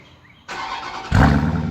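A 2018 Dodge Durango SRT engine cranks and catches, a short starter whine jumping into a loud, deep idle roar close by.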